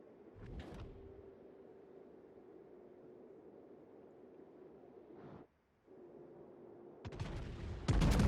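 Heavy naval gun salvos from a World of Warships match, a deep booming shot near the start and louder firing toward the end, with a steady low engine hum droning between them.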